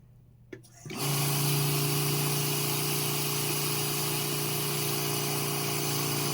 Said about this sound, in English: Going down to low flow, the pump doesn't want to turn off.